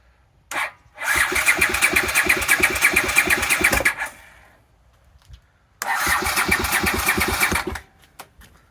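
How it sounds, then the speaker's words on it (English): An engine revs hard in two loud, rough bursts separated by a pause, with popping and crackling sharp bangs from the exhaust. "in that backfire, it basically chucked most of that out of the exhaust"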